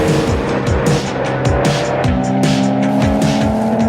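Audi TT RS and RS3 sedan with five-cylinder engines driving hard, loud engine tone rising and falling through gear changes while tires squeal and skid throughout, up close.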